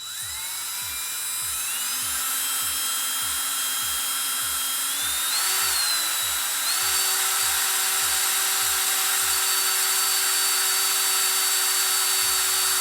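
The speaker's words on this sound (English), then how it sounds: "It's a 1/8 inch drill bit to drill the hole where that little dimple is right there" Power drill with a 1/8 inch bit drilling a hole in wood for a Top Flite Nobler model kit, a sustained high-pitched whine that climbs in pitch and holds steady, close with no talking.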